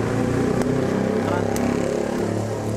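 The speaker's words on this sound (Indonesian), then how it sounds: "Sorry ya Sobat JPW kalau ada suara motor-motor, beneran di pinggir jalan banget" Motorcycles run along a busy roadside beside a café in Pejaten, their engines making a continuous, close rumble that sits under a voice.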